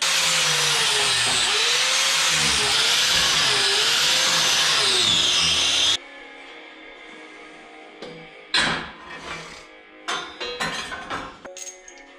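A grinder works the frame of a 1989 Chevy S10 truck, a loud, steady whining grind for about six seconds that cuts off abruptly, followed by scattered metallic clanks and knocks at close range.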